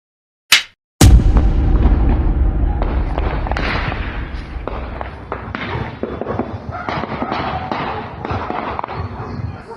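Two sharp cracks ring out, then a dense rattle of rapid bursts and pops continues, loud and echoing, like sustained gunfire.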